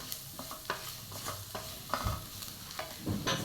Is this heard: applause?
no